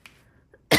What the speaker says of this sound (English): I don't know why the rain makes me cough, but the rain makes me cough